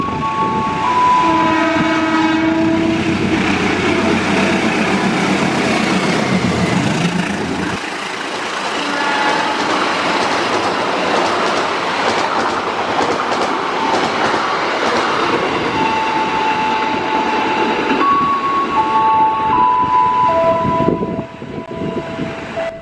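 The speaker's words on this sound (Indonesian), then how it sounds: "siang ini kita hanya akan merekam ketika rangkaiannya berdinas sebagai kereta api Tegal Bahari" The Tegal Bahari passenger train rolls past loud and close, with wheels rumbling and clattering on the rails. Its horn sounds in long held blasts at the start, and shorter blasts follow near the end.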